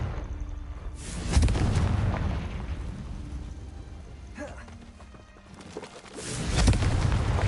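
Fiery blasts from the Confringo spell in Hogwarts Legacy, two heavy booming bursts rising and fading amid game effects, with a voice speaking over the action.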